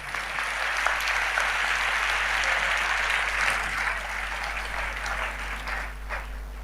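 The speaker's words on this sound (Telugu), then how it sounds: "సంతోషం, మీరు చప్పట్లు కొట్టారు" A church congregation claps steadily for several seconds, a dense, sustained wash of applause that fills the room with no break.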